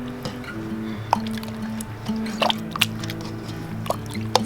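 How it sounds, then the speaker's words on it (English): Wild native fruit being mashed with water using a masher: scattered wet squishes, drips and occasional clinks over a steady low hum, fairly quiet and close, with no talking. "Now, mash them with the masher. Mash them up really good,"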